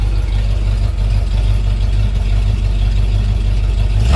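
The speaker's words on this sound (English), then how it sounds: "Oh, now it's idling." A 1978 Ford Bronco engine idles steadily, a low continuous rumble with even mechanical hum and no speech over it.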